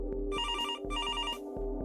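A telephone bell rings in two bursts with a pause between them, loud and close over a steady low background hum.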